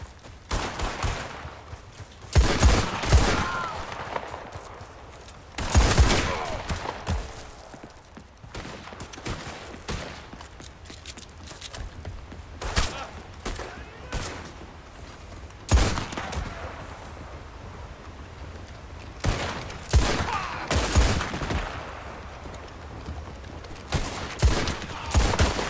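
Bursts of gunfire in the video game Red Dead Online, volleys of cracking shots in several clusters spread over the stretch with quieter ambient gaps between them.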